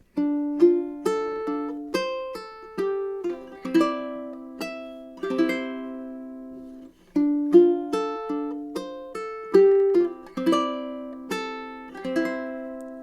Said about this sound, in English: now for this finger picking intro that I made.